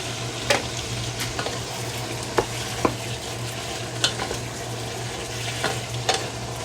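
Sliced bitter gourd stir-frying in a hot pan, a steady sizzle under a low hum with occasional sharp clacks of a utensil scraping and tossing, close and moderately loud.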